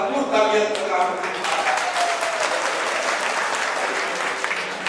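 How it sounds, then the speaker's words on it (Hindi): Applause from a mushaira audience in Bhiwandi fills the hall, dense and sustained throughout, with a voice briefly heard over it at the start. "एक बार इनके दरबार में भरपूर तालियां करता हूं।"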